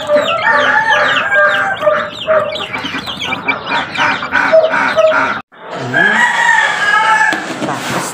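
Chickens, including a crowing rooster, cluck and crow continuously at close range, with dense layered calls and a brief pause near the end before the flock resumes; ducks are kept alongside them.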